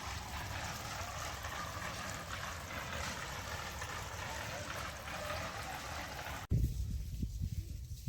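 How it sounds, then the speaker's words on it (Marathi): Water rushes and splashes steadily as an azolla farming bed is filled, a continuous broadband flow that stops abruptly near the end, followed by a few close thumps and quieter handling sounds. "अशा पद्धतीने आपण पाणी भरलं आहे"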